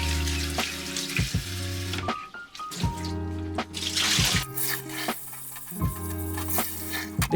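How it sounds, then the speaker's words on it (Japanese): Salad greens swished and rinsed in a bowl of standing water, giving a steady run of splashing and trickling close by with a few louder sloshes and brief quieter gaps, no talking. "まず水を溜めてからそこに落としていって、で、よくね、水で洗ってあげてください。"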